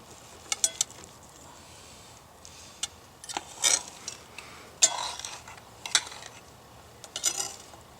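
Knife scraping and tapping against a plate while cutting open a bacon-wrapped chicken, a series of faint clinks and scrapes at close range with no talking.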